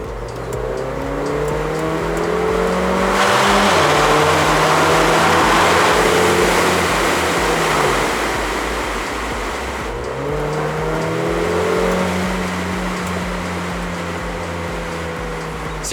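A 2018 Mercedes-Benz GLA45 AMG accelerates through traffic, its engine note climbing through the gears with two clear shift breaks. A steady, loud road and exhaust roar continues throughout.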